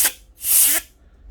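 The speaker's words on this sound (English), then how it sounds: "Alright, so now I have this spray. I'm just gonna like spray here." Cleaning spray is squirted into the charging port of a Samsung A51 phone, giving a brief hiss, a longer loud spray burst, then a short final puff, all close up and alone.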